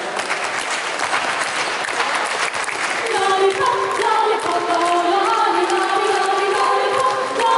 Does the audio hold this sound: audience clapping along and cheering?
yes